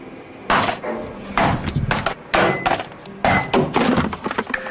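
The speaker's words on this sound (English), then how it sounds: "What happens to this sander is typical. This is called the 6-foot drop test." A Ryobi sander dropped six feet in a drop test, giving about four loud, sharp clattering impacts close by, each followed by a short rattle, with no talk.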